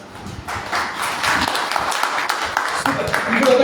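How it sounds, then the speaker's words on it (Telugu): A church congregation at a worship center claps hands in a burst of scattered slaps that builds slightly in loudness, mixed with talking voices. "ఒకసారి చప్పట్లు కొట్టడం,"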